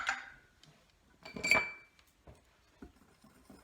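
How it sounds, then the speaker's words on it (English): A few light clinks and scrapes of a utensil against a bowl while baking powder and salt are stirred together for an apple cake, quiet and sparse, with short pauses between strokes. "We're going to mix the baking powder."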